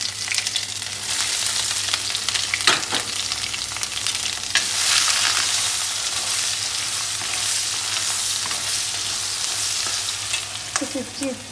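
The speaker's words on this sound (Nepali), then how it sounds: "अनि मैले चाहिँ यता चाहिँ फ्राई गर्दैछु अचारको लागि" Garlic frying in oil in a pan for Nepali chicken achar, giving a loud continuous sizzle heard up close for the full length, with a few brief clinks and stirs near the end.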